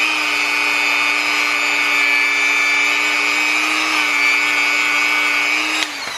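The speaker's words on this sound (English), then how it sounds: "just wanted to try my Dremel on cleaning the motor just a tiny bit" A Dremel rotary tool cleans the motor of a Honda CR125 motorcycle under rebuild, giving a loud, close, high-pitched steady whine that runs for about six seconds, then drops off abruptly.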